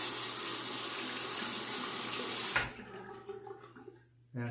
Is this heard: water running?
yes